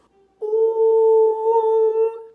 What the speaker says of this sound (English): oh, your tone is very dark and it's very muffled,